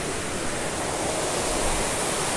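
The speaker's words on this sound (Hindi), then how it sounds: "यहाँ का कितना जोर से पानी नीचे गिर रहा है" A powerful waterfall pours over a dam-like structure in dense forest, making a steady, loud, broadband roar of rushing water that holds unbroken throughout.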